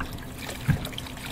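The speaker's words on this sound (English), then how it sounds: "Yikes, the water. Is the faucet busted?" Water trickles from a busted faucet in the horror video game The Crooked Man, a soft, brief dribble with one slightly louder drip near the middle.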